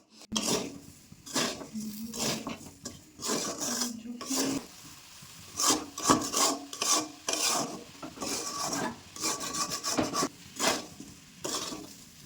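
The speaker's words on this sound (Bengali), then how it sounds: "সুজিটা দেওয়ার পর বেশ খানিকক্ষণ নাড়াচাড়া করতে হবে।" Fried semolina being stirred with spices in a pan, close scraping and rasping strokes in uneven bursts with a faint sizzle underneath.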